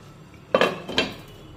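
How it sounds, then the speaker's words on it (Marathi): A metal lid is set onto a kadhai of semolina sheera for prasad, giving two sharp clanks about half a second apart, close and fairly loud, with no talk. "आता पुन्हा कढईवर झाकण ठेवूया"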